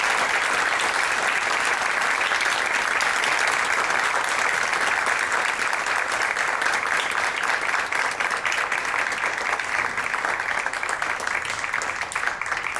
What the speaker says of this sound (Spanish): Mis compañeros se merecen mejor un muy, pero mucho más grande aplauso